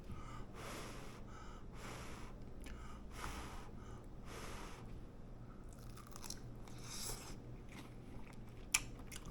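Someone bites into crispy battered shrimp tempura, giving a series of close, faint crunching bites and chewing, with sniffs and breaths between them.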